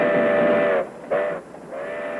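A train leaving on the line from Ethiopia toward Djibouti sounds a loud, shrill whistle in three blasts: a long one, a short one, then a final sustained tone, with a steady hiss between them.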